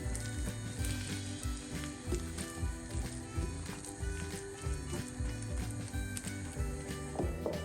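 Chicken pieces in a crisp coating fry in deep hot oil, a steady close sizzle and crackle with rhythmic bubbling pulses running the whole time.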